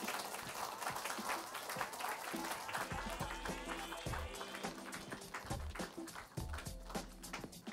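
Audience applause for a duo at an evening live show at Tokyo Tower: steady clapping throughout, with faint musical tones and an occasional voice mixed in.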